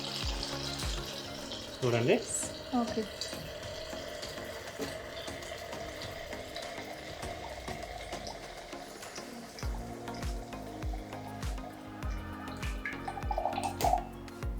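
A Pure Jal water ionizer machine runs, dispensing pH 7 water: a continuous flow of water with a mechanical hum and dripping, as someone talks over it.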